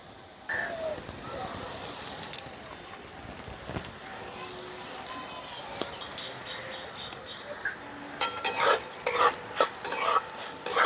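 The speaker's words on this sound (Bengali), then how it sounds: "ভালো করে মিশিয়ে নিচ্ছি।" Fried potatoes being stirred with salt, turmeric and chili powder in a pan, with a close sizzle under repeated scraping and clattering strokes that grow louder and busier toward the end.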